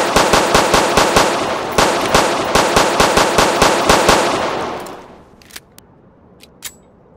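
Rapid volley of gunshots in the Roblox game Police Simulator: 911, sharp close cracks in a fast, slightly uneven rhythm for about five seconds, then a few isolated louder shots against a quieter background.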